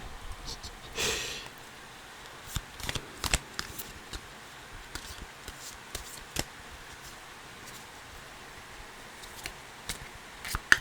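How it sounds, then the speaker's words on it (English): Tarot cards are fumbled and shuffled by hand, producing soft riffling bursts and scattered papery clicks and taps, close and quiet, with no voice over them. "excuse the fumbling sounds with the cards as I suck at shuffling"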